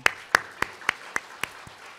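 Sparse clapping in a church during a Sunday afternoon worship service: about seven distinct, evenly spaced sharp claps that start loud and gradually fade, as if from only a few hands, with no talking.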